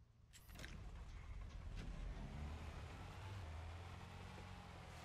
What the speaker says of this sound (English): you could hear the engine tremble for the car